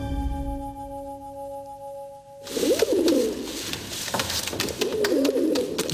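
Pigeons coo in soft, low repeated calls, two rounded phrases rising out of a background hum, close and clear with a faint rustle between them.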